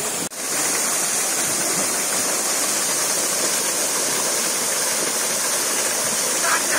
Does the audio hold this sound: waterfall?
yes